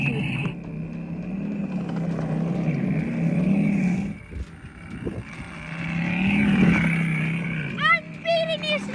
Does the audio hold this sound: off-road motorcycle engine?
yes